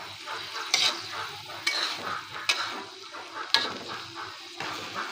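Green beans stir-fried in a pan, a steady sizzle broken by sharp scraping strokes of a utensil against the pan about once a second, close and alone with no talk.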